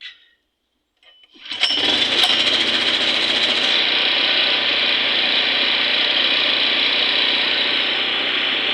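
A Predator GX160 small gasoline engine fitted with a Hipa gasoline/LPG conversion carburetor fires up after a brief pull and settles straight into a loud, steady, even idle with no surging, running close by without talk.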